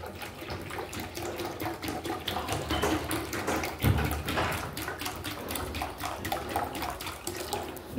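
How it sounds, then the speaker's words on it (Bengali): Cold water is poured into a glass of isabgul sherbet, a soft, steady splashing trickle with slightly irregular bubbling, fairly quiet and close. "এখন আমি এখানে আরও কিছু পানি অ্যাড করে দিব।"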